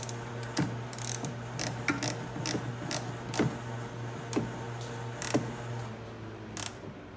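A ratchet threads a bolt into a starter on a Ski-Doo 500 Grand Touring snowmobile, making short bursts of clicking pawl strokes with brief pauses between them, close and clear against a low steady hum, with no speech.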